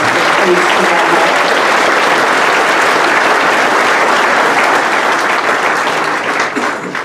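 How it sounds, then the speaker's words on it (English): Audience applause at a St. Patrick's Day parade reception in New York City: dense, loud, sustained clapping from a room of guests, continuing steadily for about seven seconds and easing slightly near the end. "Can you join me in just giving another great big round of applause?"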